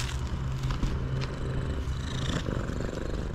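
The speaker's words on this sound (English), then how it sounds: "Purring." A tuxedo cat purrs loudly and steadily right up close, a continuous rumbling drone with no talking over it.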